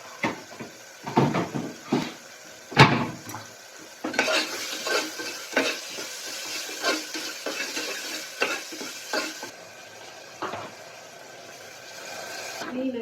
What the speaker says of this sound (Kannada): ಕ್ಲೀನಾಗಿ ಇದು ಫ್ರೈ ಆಗುತ್ತೆ ಫುಲ್ ಚೆನ್ನಾಗಿ.